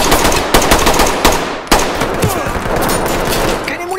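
Rapid automatic gunfire bursts through a door in the tactical shooter Ready Or Not, loud and close, with sharp repeated cracks and a heavy blast near the middle, continuing as dense sustained fire.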